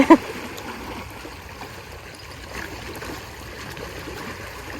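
Water gurgles and trickles steadily around a black lift net being worked Sukhothai style, a close, continuous splashing flow with a brief louder knock at the start.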